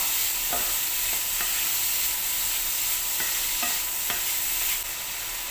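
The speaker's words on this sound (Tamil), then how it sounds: "இறாலை ரொம்ப நேரம் வதக்காதீங்க, ஹார்டாகிடும்." Prawns sauté in a hot pan for taco filling, giving a loud continuous sizzle with a few soft stirring scrapes and knocks, close up and without talk.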